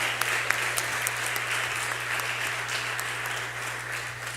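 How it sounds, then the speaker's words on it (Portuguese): Steady applause from a church congregation during a Portuguese-language service, dense and continuous for several seconds over a constant low electrical hum. "Você pode dar uma salva de palmas para o nosso Senhor Jesus Cristo"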